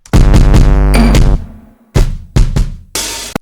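Layered hip-hop drum pattern from a trap-style beat, played on its own: punchy kicks and snares with tonal sub hits, a dense burst, then a pause and several separate sharp hits, loud and close with no talking.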